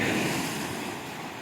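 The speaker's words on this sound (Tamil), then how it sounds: "ரொம்பவே அலைகள் குறைவாக ரொம்பவே அழகாக நம்மளை வந்து பயங்காட்டாமல் நம்மளை ரசிக்கும்படியாக இருந்ததுங்க இந்த கடல் பகுதி" Gentle sea waves wash in at Vattakottai beach near Kanniyakumari, a steady soft surf roar with some wind noise, heard alone without voices.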